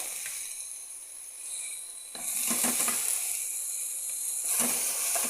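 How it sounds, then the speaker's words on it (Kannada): Tomatoes and cumin fry in a pan for a bean seed curry, giving a steady soft sizzle and hiss that swells louder as the ingredients are stirred, with faint clinks of a utensil. "ಈಗ ಟೊಮೆಟೊ ಎಲ್ಲ ಹಾಕಿ ಫ್ರೈ ಮಾಡಿ"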